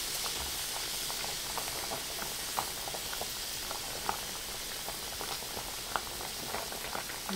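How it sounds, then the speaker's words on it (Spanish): Shrimp cooking in a pan with garlic and onion give off a constant, even sizzle, like light bubbling, scattered with small pops and crackles, close and fairly quiet. "Vamos a cocinar un poco los camaroncitos con el ajo y la cebollita"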